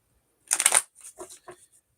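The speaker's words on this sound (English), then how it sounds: "Since I already looked at the bottom of the deck, I'm going to give it another shuffle." Tarot cards riffled in a quick close-up burst of papery flutter, followed by a few softer taps and slides as the deck settles.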